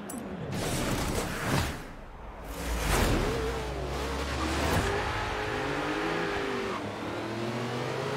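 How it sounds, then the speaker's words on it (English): Tyre squeal and engine revving from a car doing burnouts in Forza Horizon 3, a steady loud roar with rising and falling revs and whooshing swells, no voices. "Burnouts for days."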